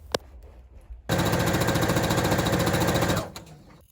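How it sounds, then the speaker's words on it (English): Sewing machine stitching along the edge of a folded fabric strap, a steady rapid mechanical chatter lasting about two seconds before slowing to a stop, with light handling clicks around it. "I folded it in half long ways and sewed all along the edge."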